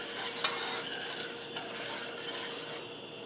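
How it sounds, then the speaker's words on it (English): A spoon stirs rice in a pot of simmering water, a steady scraping and swishing rasp against the bottom of the pot, close and fairly soft, with no voices. "And just give that rice a stir."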